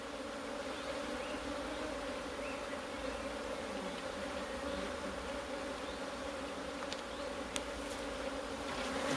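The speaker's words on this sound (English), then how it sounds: "And again, look, they're just absolutely crazy bees." Honeybees at an open hive that has been moved from a National to a 14 x 12 box make a dense, steady buzz up close, with no talking.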